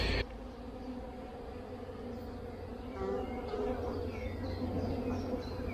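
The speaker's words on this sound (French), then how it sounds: "cette deuxième hausse que j'ai posée il y a une semaine, les abeilles travaillent dedans allègrement" Honeybees buzz steadily inside a beehive super, a dense, continuous close-up hum of many insects working, with no talking.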